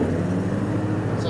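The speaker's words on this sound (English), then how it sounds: "I'm gonna throttle this down to about mid throttle and go ahead and kick on those blades so you can hear that" A John Deere S170 riding mower runs at mid throttle with its cutting blades engaged, giving a steady, close, continuous engine drone and whirring blade hum with no breaks.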